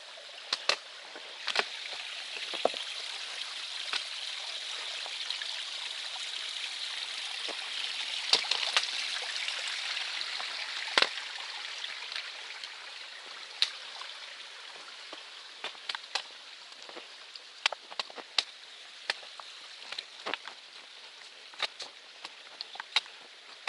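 A mountain stream on Mt. Moosilauke rushes over rocks in a steady, broad wash of water noise, with scattered clicks and taps on top; no voices.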